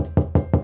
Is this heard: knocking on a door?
yes